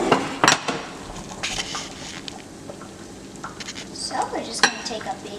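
A serving spoon scoops Peruvian locro de zapallo squash stew onto quinoa, with a few close clinks and wet scraping sounds against the dish, moderately loud, brief and irregular.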